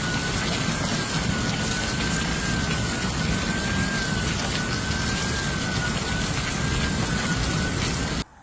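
Heavy rain pours down steadily and loudly during a thunderstorm in Germany for the whole stretch, a dense, unbroken hiss with a faint high whine running through it; no voices.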